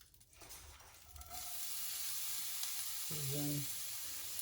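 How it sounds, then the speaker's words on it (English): Finely diced onions drop into hot olive oil, and a soft sizzle rises and holds steady, faint but continuous, with a brief voice-like murmur partway through. "now you're going to add some finely diced onions,"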